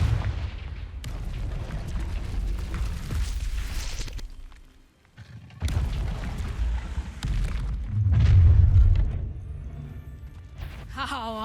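Heavy, rumbling magical blasts from the Confringo explosion spell in Hogwarts Legacy, loud booming bursts with a short lull in the middle before they resume, ending on a bright ringing tone.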